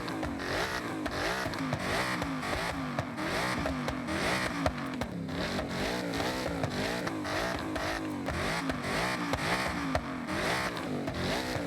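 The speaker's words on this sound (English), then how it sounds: "Stock exhaust sounds really good." A Ford Mustang Dark Horse's engine roars and revs through gear changes in the racing game Forza Horizon 6, its exhaust note rising and falling steadily, loud and continuous, with no talking.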